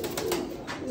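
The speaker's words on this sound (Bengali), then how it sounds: "এইখানে আমাদের একজোড়া সিলভার কবুতর" A pair of silver pigeons gives a single short, soft coo, close by, against a steady background hiss.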